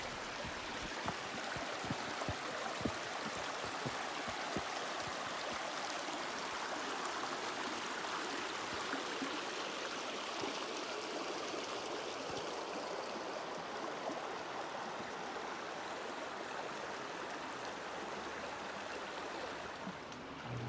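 A stream rushes steadily near a waterfall on a forest hiking trail, a continuous broad wash of flowing water heard close by with no talk.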